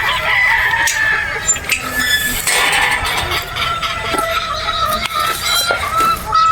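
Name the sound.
roosters crowing at a game farm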